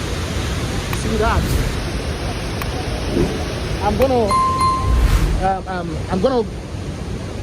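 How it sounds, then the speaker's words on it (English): A waterfall roars as a steady broadband rush throughout, with someone talking over it in a scenic outdoor spot. "A nice view of the waterfall."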